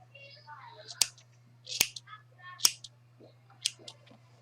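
Scissors snip the yarn ends of a crochet tassel, four crisp separate cuts close by with soft handling rustles between them over a low steady hum.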